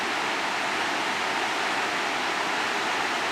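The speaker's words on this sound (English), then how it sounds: "Some of these end up at tumbling waterfalls." Tumbling waterfall in the forested Pohorje Mountains of Slovenia, a steady, dense rush of falling water that holds even and unbroken throughout, close and fairly loud with no voices.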